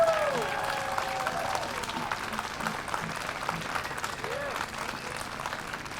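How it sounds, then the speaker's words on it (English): An audience at a free park concert in Tompkins Square Park applauds the musicians, a sustained wash of clapping throughout with scattered whoops and a voice heard over it, moderately distant. "So if you can please clap as loud as possible for them, that would be great."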